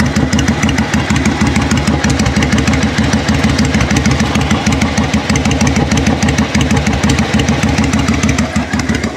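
Yamaha V Star motorcycle engine idling steadily after several minutes of running, a close, loud rhythmic chugging pulse that holds even throughout.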